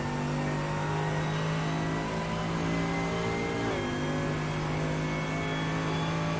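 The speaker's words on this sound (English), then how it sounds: "you'll hear the blistering roar of that V8 engine" A V8 GT3 race car engine in iRacing roars continuously at high revs at Snetterton, a loud steady drone with a brief pitch dip as it shifts gears.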